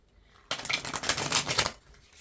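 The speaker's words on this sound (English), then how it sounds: "I'm going to get a few more shuffles in here" Tarot cards shuffled by hand during a card reading: a close burst of riffling, papery flutter lasting just over a second, then quiet, with no talking.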